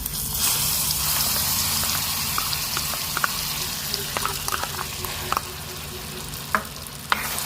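Mango pieces cook in ghee in a pan with a continuous soft sizzle. A spoon stirs now and then, adding a few sharp scrapes and taps.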